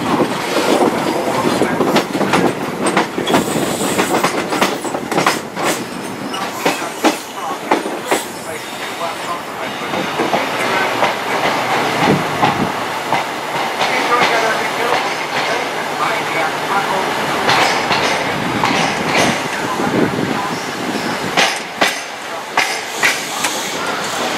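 Onboard rumble of a passenger train running into Sheffield, with steady broadband noise, intermittent clicks and rattles from the wheels and carriage, and brief quieter moments, voices faintly present at times.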